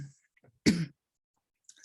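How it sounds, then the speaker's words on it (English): A single short cough, close and fairly quiet, in an otherwise silent indoor space, with faint breathing around it. "Excuse me, I have to cough."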